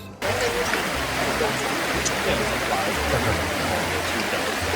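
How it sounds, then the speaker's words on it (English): A river runs beside the ruins of ancient Philippi in Greece, a steady broadband rush of flowing water close by, with a faint voice underneath. "We are here by the river in ancient Philippi, where the book of Acts tells us that Paul"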